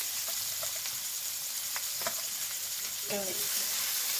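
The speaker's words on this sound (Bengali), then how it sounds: "এবার পেঁয়াজটা দিয়ে দেবো। রসুনটাও পেঁয়াজের সাথে দিয়ে দিচ্ছি।" Chopped onion and garlic sizzling in a hot pan, a steady bright frying hiss throughout with a few soft stirring clicks and scrapes.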